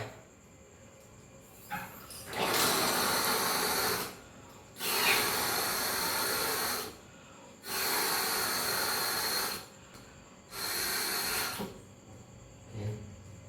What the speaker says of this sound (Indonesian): Ini kita tiup dari sini biar anginnya pecah.